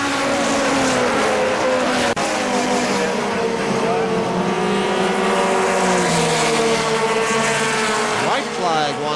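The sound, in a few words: race trucks racing at KilKare Speedway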